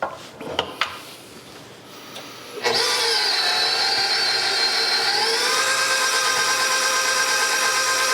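Electric mixer whirring through banana bread batter after flour is added, a few knocks and clatters first, then a loud steady motor drone that shifts pitch slightly partway through, running alone without talk.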